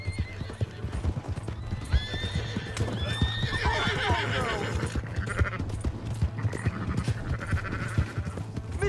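Horse hooves clip-clop at a steady gallop with repeated neighs and whinnies in the Red Dead Redemption 2 video game, loud and close over a low rumbling background.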